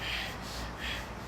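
A voice imitates heavy panting, two strong breathy gasps in quick succession, close and fairly soft.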